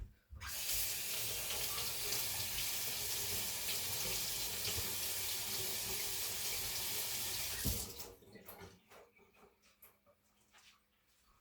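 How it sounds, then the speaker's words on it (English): Cold water gushes steadily from a tap into a sink for several seconds, loud and close, then cuts off, leaving faint clinks and handling sounds. "Gonna run it under cold water"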